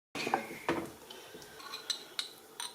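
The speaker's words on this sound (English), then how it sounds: "we'll start by heating the coconut milk and the chicken stock in a saucepan" Metal cookware clinks and knocks on a stovetop where coconut milk and chicken stock heat in a saucepan for chicken satay sauce, a few sharp taps spaced apart, close and moderately loud.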